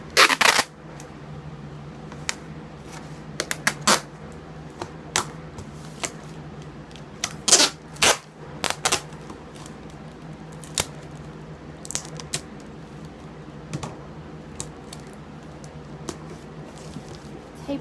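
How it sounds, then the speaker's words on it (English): Packing tape is pulled and pressed onto a cardboard box for a new computer, giving scattered sharp rips and crackles amid quiet handling noises, close and fairly soft. "So, I'm going to put some tape here on this end."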